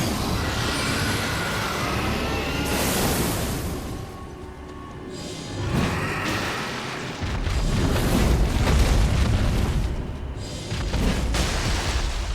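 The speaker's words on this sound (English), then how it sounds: "All this dragon fire. And magic missiles." Dragon fire and magic missiles in the video game Elden Ring: heavy roaring blasts and rumbling booms that swell and fade in waves, loud and continuous with no talk.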